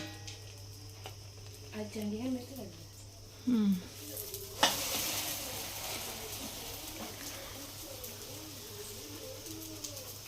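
An omelette sizzles in a pan on the stove, a steady low fry under a faint room hum, with brief stirring or scraping noises and a few quiet voices talking nearby.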